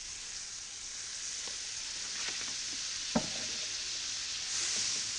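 Smoked sausage frying quickly in butter in a pan, a soft steady sizzle with occasional stirring scrapes and one sharp clink, heard alone without talk.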